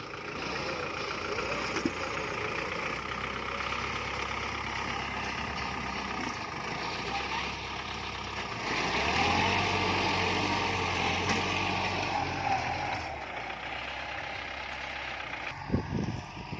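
A tractor engine drones steadily while plowing a flooded rice paddy, its rumble rising and dipping as it works the narrow field, with occasional splashes and clanks.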